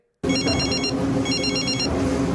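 A telephone bell rings in two rapid trilling bursts separated by a short gap, loud and close, starting abruptly after a moment of silence.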